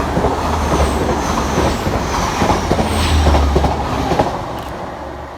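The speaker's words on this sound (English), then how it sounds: "flying fast through the station for Transpennine Express is 802 214" Transpennine Express class 802 train speeding through a station without stopping, a loud, steady rush and rumble of wheels on rail with rhythmic clatter throughout, no voices.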